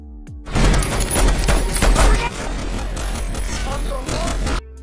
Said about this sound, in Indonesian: Suara tembakan kembali terdengar.